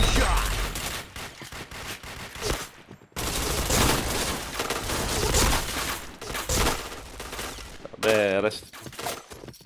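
Rapid gunfire in the first-person shooter Point Blank, dense bursts of shots filling most of the stretch with a brief gap, loud and close, with game announcer voices.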